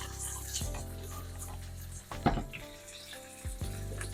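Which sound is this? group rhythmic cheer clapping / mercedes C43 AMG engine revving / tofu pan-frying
tofu pan-frying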